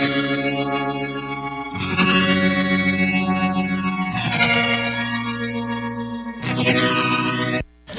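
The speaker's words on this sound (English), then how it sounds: "So that's an octave up and sounds like maybe tremolo happening" Bright, shimmering guitar through a Source Audio Nemesis delay pedal with an octave-up effect and a pulsing tremolo, sustained chords ringing in several swells with a wash of chorus and reverb.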